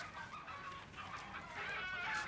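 Chickens clucking softly in the background, a few short calls rising over a quiet ambient hum.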